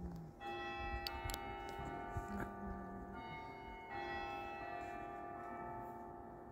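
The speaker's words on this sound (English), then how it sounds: "Caught the bells again." Bells of Durham Cathedral ringing at night, heard from outside at moderate distance with sustained overlapping tones and a few separate strikes, a faint voice briefly in the background.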